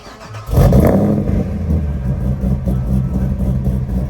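A car engine with a lumpy aftermarket camshaft fires up loudly, then settles into a choppy, uneven idle with a rhythmic loping lub-dub pulse, close by.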